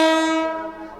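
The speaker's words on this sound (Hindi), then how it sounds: "फाइनली हमारी ट्रेन जो है ना नेपाल रेलवेज़ की वो प्लेटफॉर्म नंबर 1 पे लगाई जा रही है" A Nepal Railways train pulls in at platform number 1 on the Jaynagar–Janakpur line, its loud steady horn blaring close by for about a second with no talk over it.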